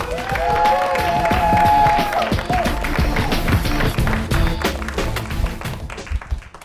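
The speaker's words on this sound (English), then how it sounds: "a big round of applause for Brad Kaufman." Loud crowd applause with scattered cheering and a high whistle early on, the clapping thinning out toward the end.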